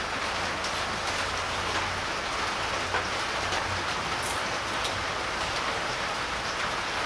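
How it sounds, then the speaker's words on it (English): Steady rain falls continuously, a dense hiss of drops pattering on surfaces close by, with no voices. "Nice and muggy with this rain coming through."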